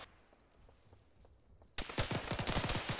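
Gunfire in the Arma video game, played by the ShackTac group: after a stretch of faint ambience, a sudden loud burst of rapid automatic shots hammers on in a fast, steady rhythm.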